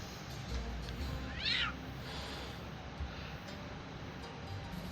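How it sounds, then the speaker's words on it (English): A cat meows once in a video game, a short rising-falling cry set against a quiet ambient background, with a few soft ticks around it. "See the girl on the beam with the cat?"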